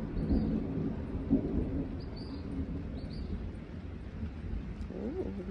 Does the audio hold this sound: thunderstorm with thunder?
yes